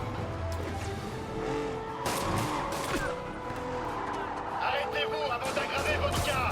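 Engines roar and tires squeal in a long skid during a car chase in Marvel's Spider-Man, with crashes and gunfire-like pops in a loud, continuous game soundscape.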